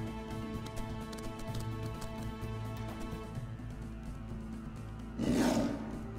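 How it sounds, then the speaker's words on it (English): A roar from Scar, the lion villain in the video game Kingdom Hearts 2, swells up loud and close for about a second near the end, over a steady bed of game music. "Just let him roar."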